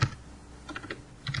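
A few quiet keystrokes on a computer keyboard, spaced in short clusters at close range with no talking.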